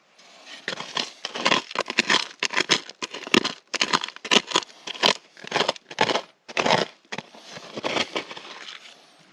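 Sharp, irregular chipping and scraping at a rocky cliff bank while metal detecting in New Mexico, a rapid series of close, loud crunching strikes with brief pauses and no voices.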